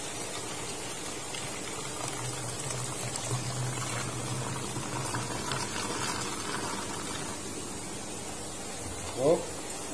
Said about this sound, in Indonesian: ini air panas, hati-hati ya